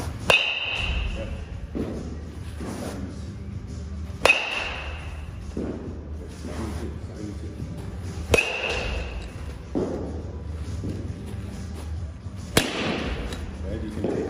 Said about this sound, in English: you can take a moment in between each swing